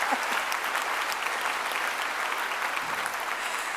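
Sustained applause from a large crowd congratulating affirmative and negative teams at a debate event, steady and dense throughout with no pauses.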